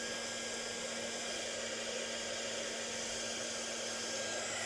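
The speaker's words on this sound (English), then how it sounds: "So the embossing gun's going on again. Gonna let it get hot." An embossing heat gun blows hot air in a steady, loud, unbroken whoosh with a constant whine through it, running alone at close range.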